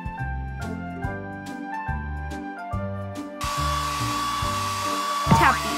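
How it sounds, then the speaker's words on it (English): A hairdryer blows in a PAW Patrol video game. Bouncy background music plays first, then a steady whooshing hiss of air starts partway through and continues over the music to the end. "Tap the hairdryer to blow."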